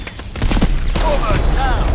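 A short volley of gunfire in Call of Duty: Advanced Warfare, a cluster of sharp close shots followed by a louder blast and whistling tones, with a voice briefly calling out amid the battle noise.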